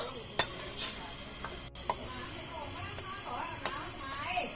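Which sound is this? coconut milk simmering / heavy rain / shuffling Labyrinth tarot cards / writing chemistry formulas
coconut milk simmering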